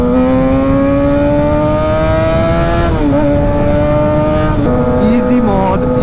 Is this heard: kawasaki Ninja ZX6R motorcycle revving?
yes